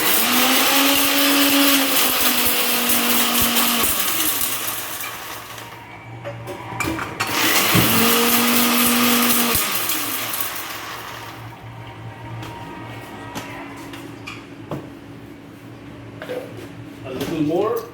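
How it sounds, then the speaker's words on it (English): A mixer grinder whirs loudly in bursts as fresh masala for Awadhi mutton is ground, pausing and restarting several times, with talking during the quieter gaps. "Okay, so now I think we are done with the grinding of masalas."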